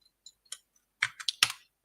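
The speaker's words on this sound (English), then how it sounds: "Get my fingers on the right buttons on the keyboard" Fingers tap a computer keyboard, a few light scattered keystrokes followed by a quicker cluster of louder clicks, close and alone in a quiet room.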